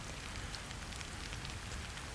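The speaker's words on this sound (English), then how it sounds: "Our first time overnight parking lot camping was at Home Hardware, and yep, it rained all night." Steady rain falling all night on a camper parked overnight in a Home Hardware parking lot in Cranbrook, a dense continuous patter at even loudness with no voices.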